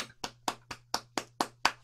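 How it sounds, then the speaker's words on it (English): One person claps steadily on an online call, about eight crisp, evenly spaced claps, close and distinct over a faint constant hum. "everybody unmute and round of applause."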